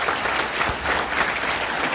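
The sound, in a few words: audience applause for Ravi ji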